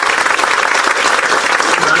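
An audience at a political party founding convention claps, making a dense, loud, sustained burst of applause throughout.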